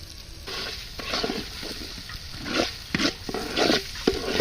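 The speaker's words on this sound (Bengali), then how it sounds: "চালটা ভাজা হয়েছে," Polao rice fries in a pot with oil, cardamom, cinnamon, bay leaf, chopped onion, ginger paste and green chili, giving a steady close sizzle broken by repeated scraping stirs.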